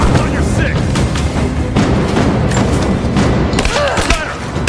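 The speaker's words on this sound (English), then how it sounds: "Gunner, keep firing! I'm taking fire!" Dense gunfire and explosions in Rise of the Tomb Raider, loud rapid cracks and booming thumps packed tightly over a constant roar of battle, with faint shouted voices mixed in.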